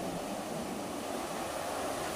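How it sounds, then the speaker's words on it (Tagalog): Big ocean waves surge around a boat in a steady, faint, broad rushing wash, with wind noise and no talk. "Lalaki ng alon."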